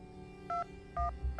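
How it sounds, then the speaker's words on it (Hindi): Three clear electronic keypad tones, each a short dual-pitched beep spaced evenly apart, like digits being dialed on a phone, fairly quiet and close. "मैं लोकेश भैया को कॉल करती हूँ।"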